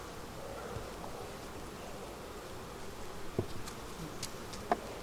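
Honey bees buzz during a beehive inspection, a soft continuous hum of many insects with a few faint clicks and knocks from handling the frames, no voices.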